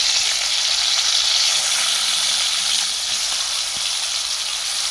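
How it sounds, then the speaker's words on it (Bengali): River bele fish coated in turmeric and salt fry in white oil in a pan, a dense, even sizzle that holds steady and close throughout with no one speaking. "এখানে মাছগুলো প্রথমে আমি লাল লাল করে ভেজে নেব"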